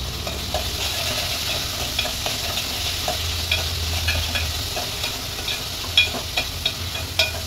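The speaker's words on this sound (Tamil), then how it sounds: "இப்போ வந்துட்டு இந்த முருங்கைக்காவும் அவரைக்காவும் இதில் எடுத்து போட்டுருவோம்" Drumsticks and broad beans fry and sizzle in a pan, stirred with a utensil whose scrapes and taps land at irregular moments over a steady close hiss, with no talk.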